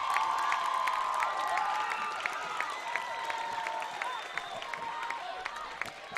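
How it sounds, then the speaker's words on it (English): A high school senior boys basketball crowd at a tournament game cheers and claps steadily throughout, a busy gym roar with sharp shoe squeaks and whistle-like tones over it. "You can hear the crowd, they're pumped up."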